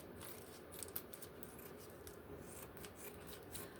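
Kitchen scissors snip through a plastic bacon package in a run of quick, close crisp cuts and rustles, one slightly louder snap near the start, with no voices.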